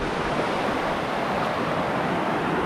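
A waterfall in Mexico, used as a natural shower, gives a steady, close, loud rushing roar of falling water that never lets up, with no voices.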